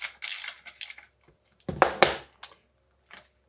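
A cassette tool unscrewing the damper from a RockShox Pike fork, heard as a close series of short metallic clicks and scraping knocks in irregular bursts with quiet gaps between them, and no one talking.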